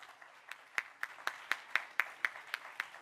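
A small gathering at a memorial event claps in a slow, sparse rhythm, about a dozen distinct faint hand claps spaced evenly over a quiet background.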